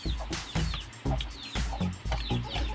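Chickens cluck close by at feeding time, a quick run of short, irregular clucks and calls from several birds that overlap with little pause.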